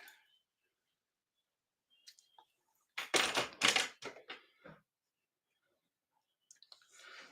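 Paper being trimmed for a craft card project, a short burst of crisp snipping and rustling clicks near the mic, surrounded by near silence.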